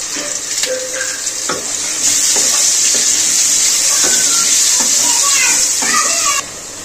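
Taro and potatoes sizzle in hot oil in a pan, a steady frying hiss with scattered clinks and scrapes of stirring, growing louder partway through before easing off at the end.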